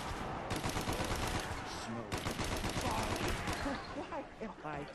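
MP40 submachine gun firing in Call of the Dead, a Black Ops Zombies video game map, with dense rapid automatic bursts nearly continuous and loud throughout, over a busy game soundscape with voices mixed in.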